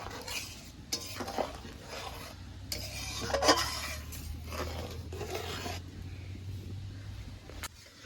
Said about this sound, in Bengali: নারকেল বাটাটা দিয়ে দিয়েছি, এবার একটু নেড়ে চেড়ে নেব।